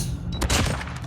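Burst of rapid gunfire from an LKAR rifle in a shooting video game, several quick loud shots clustered together up close with no talking over them.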